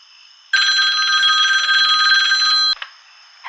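A telephone bell rings loudly in one continuous, steady burst of about two seconds, followed by a brief rattle and near silence.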